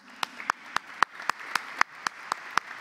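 Audience applause at an award ceremony honoring a diploma recipient, heard mainly as a few close hands clapping in a steady, regular rhythm of sharp claps, about three per second, over a soft background of further clapping.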